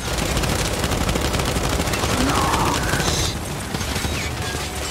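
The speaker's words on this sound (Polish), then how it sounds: "Jeszcze parę strzałów, dobra" Gunfire from the video game Gears 5, dense sustained shooting and mechanical clatter filling the whole stretch, loud and continuous with a slight drop near the end.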